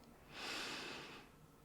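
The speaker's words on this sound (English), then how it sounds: "sniffing in" One slow, steady breath drawn in through the nose, a soft airy hiss lasting about a second, close and quiet.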